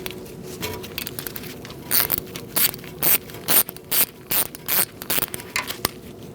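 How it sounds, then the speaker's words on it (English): A ratchet with an 8mm socket loosens the front wheel speed sensor bolt on a 2004-2012 Chevrolet Colorado, giving close, rapid metallic clicking in short bursts with brief pauses between strokes. "Using an 8mm socket, we're going to take out this bolt for our speed sensor."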